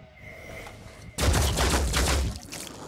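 Loud burst of automatic gunfire in the tactical video game Phoenix Point, a dense rapid volley lasting just over a second after a quieter game backdrop.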